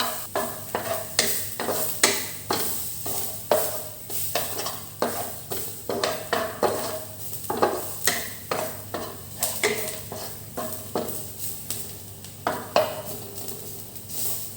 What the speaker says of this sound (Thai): ใส่กระเทียมที่โขลกลงไปครับ คั่วให้หอมก่อนครับ